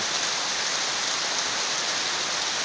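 Real rain falls in a windy downpour, a thick unbroken wash of drops striking surfaces, steady and near with no voices or thunder.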